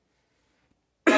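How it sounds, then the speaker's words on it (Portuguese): A single sharp cough bursts out near the end after near silence, loud and close, during a livestreamed family church service. "Essa tosse aí não é Covid, né?"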